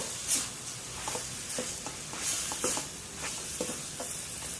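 Ingredients for a Thai jackfruit salad, with pork, are stir-fried in a pan, a soft steady sizzle broken by repeated scraping strokes of the spatula.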